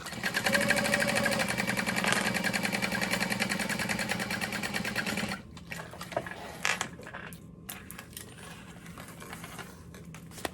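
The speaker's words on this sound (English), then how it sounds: "I'm gonna flip it over and sew through." A sewing machine stitches accent fabric onto a crossbody bag, running in a loud, steady, rapid whir for about five seconds before stopping, followed by quieter handling sounds and a few light clicks.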